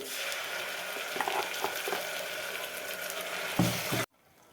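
Ground horse gram paste added to a sizzling tempering produces a steady watery hiss and bubbling. A few soft clunks sound near the end before it cuts to near silence.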